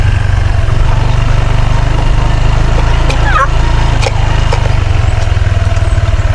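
A motorcycle engine idles close and loud on a farm with cattle, a steady low rumble running throughout, with faint chirps and small sounds over it.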